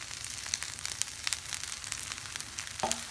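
Quinoa fried rice with chunks of hot dog being stir-fried, a steady crackling sizzle up close with scattered sharp pops and a light clink near the end.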